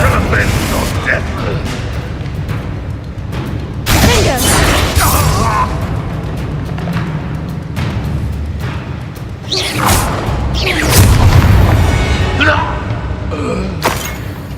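A Confringo explosion spell from a Harry Potter video game lands amid a dense game battle, with loud thuds, booms and whooshing crashes recurring across the stretch, mixed with voices.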